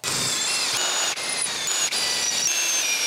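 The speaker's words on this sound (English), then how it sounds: "So let's get some holes drilled in these guys." A drill bores holes in metal pump jet parts for an oil diffusion pump, giving a loud, steady whining grind that stops briefly twice.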